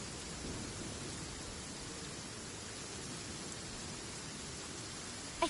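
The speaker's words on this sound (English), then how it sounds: "It's raining again. This will hinder our vision." Steady rainfall in the video game Genshin Impact on PS5, a dense continuous hiss of falling rain at even loudness throughout with no talking.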